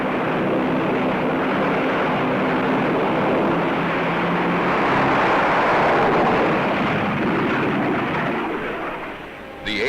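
North American AJ Savage carrier-based aircraft engine, a loud sustained roaring drone that swells in the middle and drops away briefly near the end.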